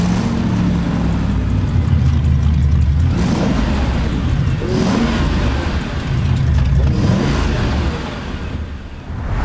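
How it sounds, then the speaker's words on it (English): A Mercedes-Benz G-Class engine runs loud and close, with surging revs that rise and fall in several waves and no voices over it. "I take this car, start the engine, and the smile comes on my face immediately"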